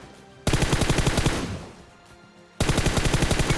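PUBG Mobile automatic gunfire, with a loud rapid burst of evenly spaced shots, a brief lull, then another sustained burst, very close and prominent.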